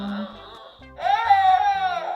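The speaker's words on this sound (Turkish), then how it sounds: "Çok ağladı doktor ya." A Cicciobello toy baby doll crying during a pretend doctor visit: a short electronic wail, a brief pause, then a louder sustained cry, close and clear.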